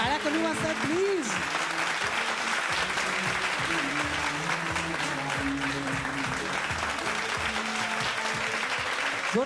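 Audience applause at a Mangala Gaur women's festival gathering in Mumbai: steady, dense clapping from a crowd that fills the whole stretch at even loudness, with a voice speaking over it at times.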